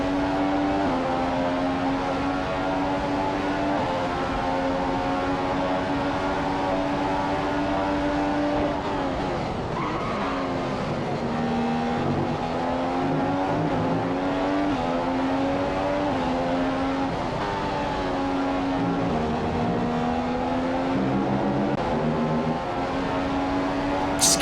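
Ferrari Formula 1 car at Monza in F1 2015, its engine wailing steadily from the cockpit, then dropping in pitch under late braking into the Rettifilo chicane before climbing again through the gears with repeated downshift and upshift steps.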